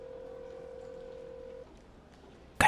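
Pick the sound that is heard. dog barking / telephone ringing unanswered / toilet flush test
telephone ringing unanswered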